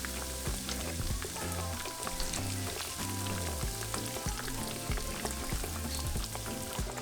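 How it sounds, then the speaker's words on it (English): Thin milanesa cutlets sizzle in hot oil. A dense, loud, continuous crackle with popping spatters runs nearby throughout, and no one speaks. "we're going to add our milanesas and we're going to cook them for about 2 to 3 minutes each side"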